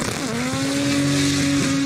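A drift car's SR engine revs high and holds a steady, strained note, dipping briefly before climbing again, loud and close.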